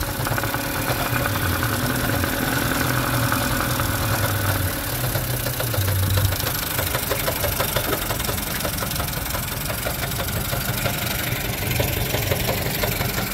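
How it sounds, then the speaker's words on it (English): A 1988 Mariner 8 hp long-shaft two-stroke outboard runs steadily and loudly up close, a continuous buzzing, rattling engine note with no talk over it. "damn good little motor"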